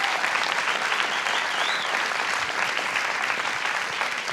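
Loud, dense applause from a studio audience at a French comedy talk show, an even roar of clapping sustained throughout, with a brief whistle rising above it midway.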